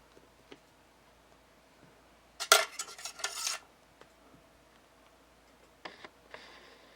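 A knife slices through a block of polymer clay made to look like imitation stone, giving one short scraping burst with small clicks mid-clip, then faint taps, with no talking.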